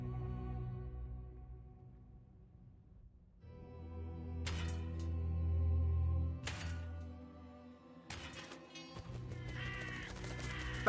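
Crows caw in the horror game True Fear: Forsaken Souls, several harsh calls spaced apart over a low droning hum, with a louder cluster of caws near the end.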